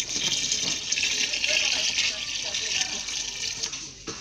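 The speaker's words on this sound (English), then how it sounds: "So we are going to add water and sieve it." Water pours from a tap into blended tiger nut paste, a steady close hiss and splash running throughout with a person talking over it.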